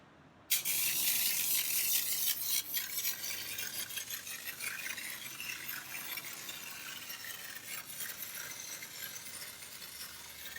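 Solo 301-FA CLEANLine hand-held foaming sprayer set to full dry, releasing a sudden loud hiss of foam that holds steady for several seconds and then slowly eases off, with faint clinks in the background and no talking.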